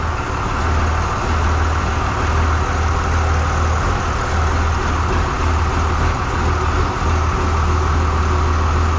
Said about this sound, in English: We have a tractor that sounds normal